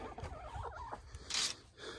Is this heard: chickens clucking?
yes